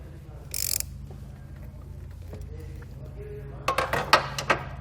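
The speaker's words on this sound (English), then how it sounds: "We can grab a 13mm socket and just snug this down." A 13mm socket on a ratchet snugs down a nut on the post of a Roadmaster automatic battery disconnect in a 2017 GMC Canyon. Faint handling sounds give way to a short burst of close, metallic clicks near the end.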